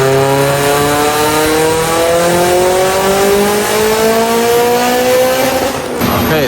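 Mitsubishi Evo on a stock block with an AGT 64mm turbo revs hard on a dyno, a loud steady engine tone climbing in pitch for about six seconds before a sudden drop as the pull ends.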